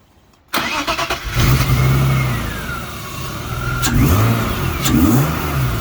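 A BMW E36 engine cranks and fires up, then revs up and down several times close by, rough and loud, with no talking over it.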